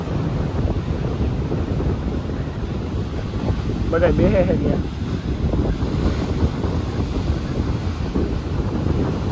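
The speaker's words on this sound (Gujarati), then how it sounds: "ઠંડો ઠંડો પવન આવે છે ભાઈ" Cold wind gusts across Porbandar Chowpatty beach in a steady, loud broadband roar with surf underneath, while someone talks over it throughout.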